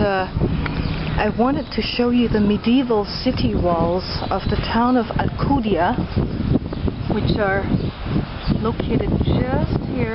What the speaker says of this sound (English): excuse the wind, it's quite windy here